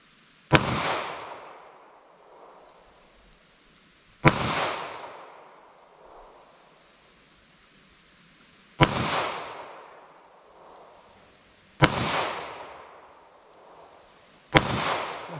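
.32 H&R Magnum revolver firing lead ammunition outdoors: five loud, sharp shots several seconds apart, each cracking hard and trailing off in a long echoing decay, with quiet between.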